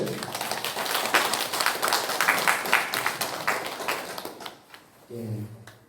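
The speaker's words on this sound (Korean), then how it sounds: "감사의 박수를" Applause from a church congregation during a Sunday praise service, a dense patter of clapping that fills most of the clip and fades near the end, followed by a brief bit of speech.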